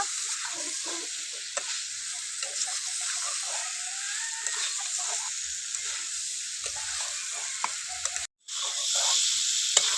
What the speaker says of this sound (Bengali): ফুলকপি আলুটা আমি ভালো করে কষিয়ে নেব